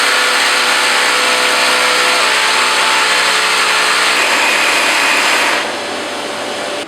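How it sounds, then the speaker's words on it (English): A Carvex jigsaw cuts the edge of a disc guided by a trammel. The blade buzzes loudly and continuously up close, then the tone drops as the cut ends and the saw winds down. "my Carvex jigsaw has made an absolutely superb job of cutting that edge"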